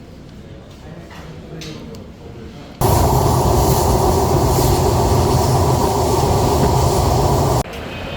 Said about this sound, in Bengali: অবশেষে আমরা ট্রেনে উঠে গেলাম।